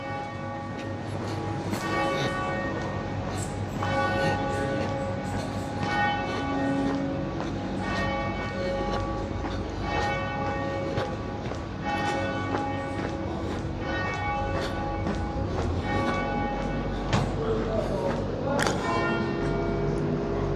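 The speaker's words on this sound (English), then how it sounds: "Oh, you can hear the bells." Church bells at the Church of the Holy Sepulchre in Jerusalem peal repeatedly in an irregular, overlapping pattern, ringing loud and reverberant against a steady background hum for the whole stretch.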